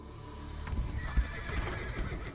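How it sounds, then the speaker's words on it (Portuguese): Horses neighing in the medieval strategy game Age of Empires 4, a couple of whinnies rising over a busy game soundscape with faint hoof clatter, moderately loud and without talk. "É hora de matar os cavalos."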